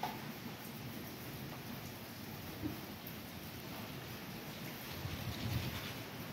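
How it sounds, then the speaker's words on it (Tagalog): Strong wind during a typhoon in a rural Philippine setting, with rain, blowing as a steady, moderately loud broadband roar with occasional gusts and microphone buffeting throughout. "Grabe ang lakas ng hangin dito."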